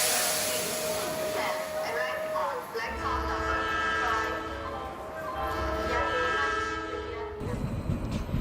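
A passenger train pulls away from a railway station, with a horn call and a steady rumble of rolling carriages that holds throughout, mixed with other sound.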